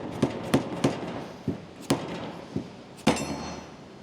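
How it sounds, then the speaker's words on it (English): A locking ring being hammered loose on the factory fuel tank of a Dodge Ram Cummins 6.7L pickup, sharp metallic strikes about eight times at uneven intervals, close and fairly loud, no voices. "First step is gonna be removing the locking ring on the OEM tank."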